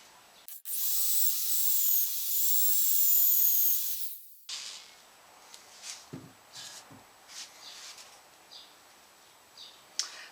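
A Forstner bit bores a control cavity into a guitar body, a loud high whining drill burst of about three and a half seconds, followed by quiet scraping and small handling taps.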